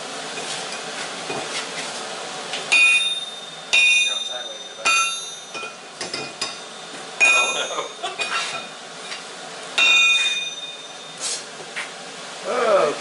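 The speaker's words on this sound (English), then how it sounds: "grab the hammer from the drift from him" Hammer striking hot metal at a forge while a hammer eye is shaped with a drift, sharp ringing clinks arriving in irregular bursts of several blows, close and bright, separated by brief pauses.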